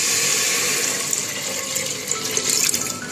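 Water pours into a pressure cooker for cake-making in a steady, hissing stream, loud and close, with a slight splashing flutter toward the end.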